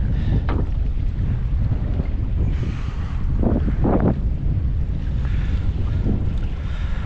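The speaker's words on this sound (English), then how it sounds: "Bit of a southerly wind coming through" Southerly wind gusting across open water by a houseboat while fishing, a steady loud rush of buffeting wind noise on the microphone with lapping water and a few brief knocks underneath.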